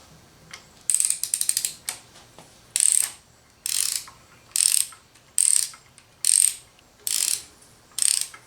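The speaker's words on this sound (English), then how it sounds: "this oil pump bolt gets torqued. I want to torque it to 65 foot-pounds." A torque wrench ratchets on an oil pump bolt during a Melling M155 oil pump install on a Chevy 5.7 L V8. About eight crisp ratcheting bursts come up close in a steady rhythm, with a brief fast run of clicks near the start.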